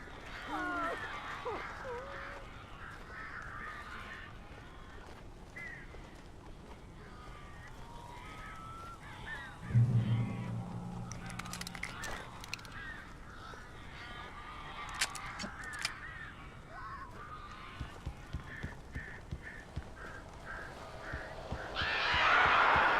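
Crows caw in the Alan Wake video game, scattered harsh calls inside a house with a blocked chimney, heard quietly among ambient game sounds, a brief low thud and a voice speaking.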